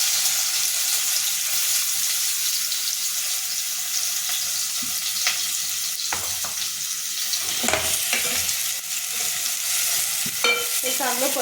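Onion sautéing in oil until golden crackles and sizzles steadily up close, broken by a few scraping stirs and clinks of the spoon against the pan, with no talking.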